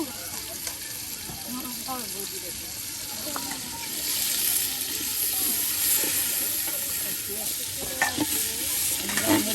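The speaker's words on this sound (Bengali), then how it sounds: "সব কিছু দিয়ে কিন্তু এটা সুন্দর করে কষানো হচ্ছে।" Beef khichuri sautéed in a pot at an outdoor riverside cooking spot gives a constant hissing sizzle with repeated stirring scrapes. The frying grows louder midway, and a voice is faintly audible at times.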